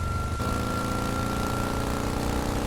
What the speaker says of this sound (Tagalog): Sakay lamang ng kanyang motor